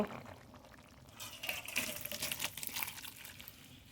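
Cooked singhi fish and kohlrabi curry poured out of a pan, a faint pause and then a wet, splashing pour with liquid sloshing, close but quiet.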